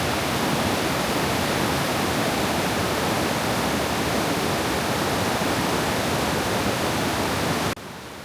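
A stream of melting ice rushes steadily nearby on a mountain track in New Zealand, a loud, unbroken wash of water that cuts to a quieter level at the very end.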